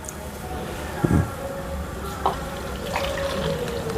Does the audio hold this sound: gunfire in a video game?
no